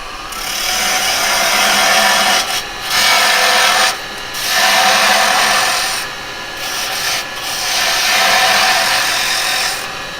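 Woodturning tool scraping wood on a spinning lathe. The rasping is loud, broad and continuous, rising and falling in long strokes with brief dips between passes.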